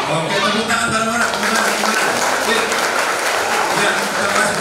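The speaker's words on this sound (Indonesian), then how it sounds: "tepuk tangan bareng-bareng" A crowd of vocational high school students claps together loudly and continuously, with voices mixed in among the applause.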